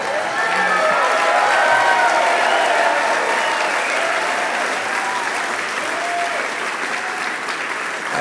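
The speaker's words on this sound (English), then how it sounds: "I didn't get any of this applause." Dinner audience at an anniversary event applauding a speech, a full, steady wave of clapping with some cheers and voices, loud and sustained, fading slightly toward the end.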